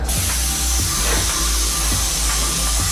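A paint spray rig sprays continuously nearby, a loud broad airy hiss over a steady low motor drone with faint periodic thumps, and no voices.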